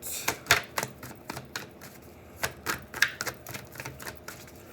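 Tarot cards being shuffled by hand, heard as a steady run of crisp, dry riffling snaps and taps, close and fairly quiet, with no talking.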